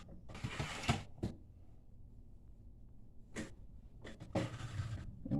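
A paper trimmer cuts cardstock for a mini album cover in a few short scraping, creaking strokes, with quiet gaps between them, close by and fairly soft.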